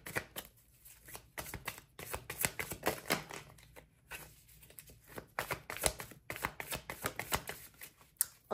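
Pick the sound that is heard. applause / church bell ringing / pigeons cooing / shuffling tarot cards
shuffling tarot cards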